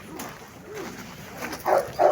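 An Alabai dog at a busy dog market gives a couple of short, fairly faint barks amid low background murmur.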